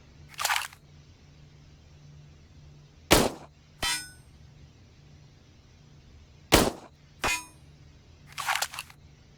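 M9 pistol shots ring out at a range plate, six sharp cracks spaced irregularly over several seconds, loud and close over a low steady hum.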